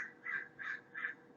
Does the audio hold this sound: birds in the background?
yes